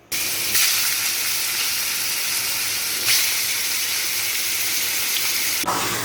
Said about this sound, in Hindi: यहाँ पे वो तेल गरम कर रहा है कढ़ाई में। So basically we are making a chicken fry